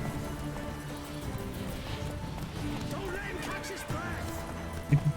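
Horse whinnying and hoof clip-clop from the Witcher 3 video game, moderately loud under a continuous bed of game sound and talk, with a couple of sharper bursts near the end.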